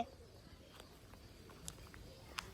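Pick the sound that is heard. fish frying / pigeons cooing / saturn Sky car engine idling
pigeons cooing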